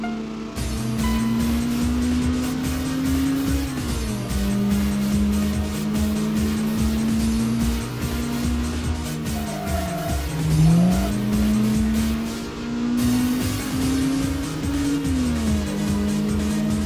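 Race car engines in the video game TXR racing, a sustained droning engine note rising and falling with gear shifts and revs, loud and continuous throughout with faint tire noise.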